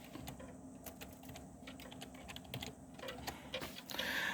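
A password is tapped out on a computer keyboard, a run of quiet, close, irregular key clicks with brief pauses and a slightly louder flurry near the end.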